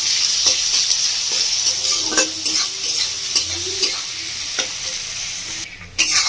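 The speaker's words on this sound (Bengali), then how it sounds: "বন্ধুরা পেঁয়াজটা ভাজা হচ্ছে" Two medium-sized chopped onions fry in a pan with a constant close sizzle, punctuated by occasional stirring clicks and scrapes, and no one speaks.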